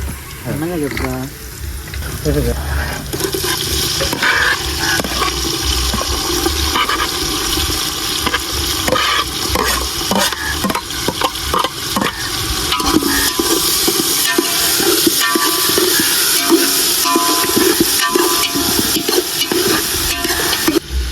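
Tomatoes, carrots and onions tumble into a hot pan for a vegetable biryani and are stirred, giving a loud, steady wash of sizzling and scraping that runs throughout, with some talk over it.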